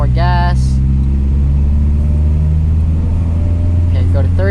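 Manual car engine gaining revs as more throttle is applied, a loud steady rumble close by, with a person talking briefly at the start and end.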